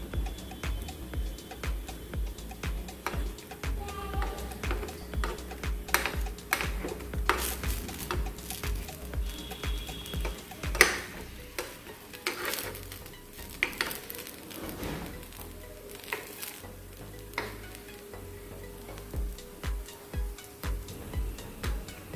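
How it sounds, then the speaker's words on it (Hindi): Rava appe roasting in an appe pan, a steady soft sizzle with scattered light ticks and scrapes as the dumplings are turned, continuous and close. "इनको थोड़ा साइड में कर करके भी अच्छे से सेक लेंगे।"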